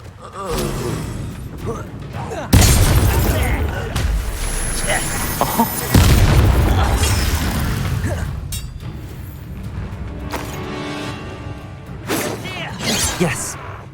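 Incendio fire spells blasting during combat in the Hogwarts Legacy video game, loud booming bursts around 2.5 and 6 seconds among a dense, crashing battle mix with voices speaking.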